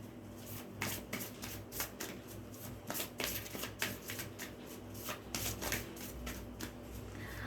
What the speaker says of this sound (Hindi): मैं इस डेक से कार्ड लेना चाहूंगी।